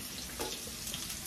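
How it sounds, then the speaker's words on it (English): Onions fry in a pan in a home kitchen, giving a short burst of steady, close sizzling and crackling with small spits of fat and no talking. "Just frying onions, and I'll add my mushrooms"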